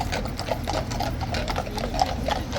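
Horses' hooves clip-clop on the ground at Horse Guards in London as mounted officers pass, a steady run of close hoof strikes over a busy outdoor background with no speech.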